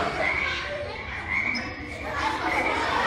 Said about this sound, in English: He saw a duck, a frog,